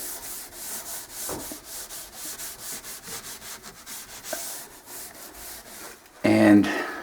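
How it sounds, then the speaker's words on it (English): A 3M finishing pad lightly scuffs a wooden kitchen cabinet surface before gel staining, heard as a series of close, rhythmic rubbing strokes that end in a louder, sharper scrape. "So all you want to do is just go over it a little bit like this. You don't want to take it off. You just want to lightly scuff it up."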